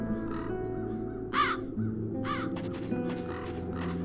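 Crows in the video game The Dark Eye: Chains of Satinav give several harsh, separate caws spaced over a few seconds against a low ambient background, then a burst of crackly noise near the end.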